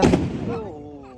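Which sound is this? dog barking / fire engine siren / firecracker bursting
firecracker bursting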